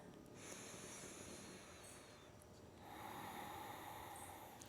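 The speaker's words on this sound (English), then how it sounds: "One cycle of breath here." Yoga breathing, heard as a slow, soft, hissing breath cycle: a long airy inhale followed by a louder exhale, close and quiet, with no talking.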